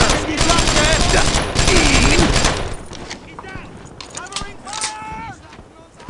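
Rapid gunfire and machine-gun bursts in the WWII shooter Brothers in Arms, at the Normandy, 1944 action at St. Martin, loud and dense for the first half, then thinning as shouted squad voices and radio chatter take over.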